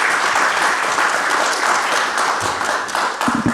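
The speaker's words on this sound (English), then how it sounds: "people are already clapping now" Lecture audience applauding a guest speaker, a sustained burst of many hands clapping close and loud, thinning slightly near the end with a few stray thumps.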